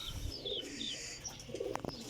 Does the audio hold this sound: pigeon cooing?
yes